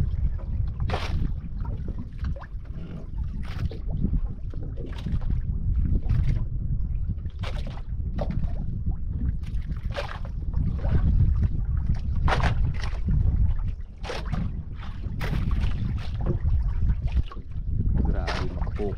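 A boat moves on open water under steady wind buffeting, with a constant low rumble and repeated splashy bursts and thumps at irregular intervals, loud and close throughout.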